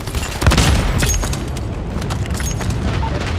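Airstrike explosions in an online multiplayer shooter during a hardpoint match: a heavy booming burst lands early, then rumbling, crackling blasts roll on continuously at a loud level.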